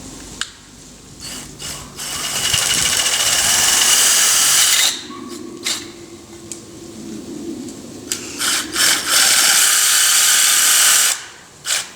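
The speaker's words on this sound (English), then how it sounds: "I'm going to put the screws in there and to pull it together" A power driver whirs in several bursts as screws are driven in to assemble a whiskey barrel sink, with longer runs and short stuttering pulses and clicks close by; no talking.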